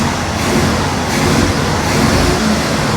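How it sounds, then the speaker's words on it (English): A Chevrolet C-10 square body truck engine revs loudly and continuously with a dense, rough roar, close and alone throughout. "And it's revving up real good."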